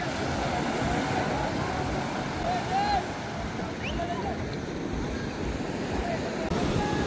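Surf waves at Arugam Bay beach make a continuous soft roar under gusty wind noise, with a few faint distant voices and calls mixed in.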